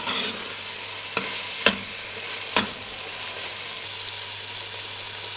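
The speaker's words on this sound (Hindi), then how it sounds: "अब मीडियम फ्लेम पे 3 से 4 मिनट इसकी अच्छे से भुनाई करेंगे।" Minced meat fries in half a cup of cooking oil over a medium flame, a steady low sizzle broken by a few sharp clinks of a stirring spoon against the pan, with no voices.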